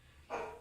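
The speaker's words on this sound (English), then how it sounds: "I'm sorry for the barking dog." A single short dog bark bursts out over a quiet, low hum, close by and fairly loud.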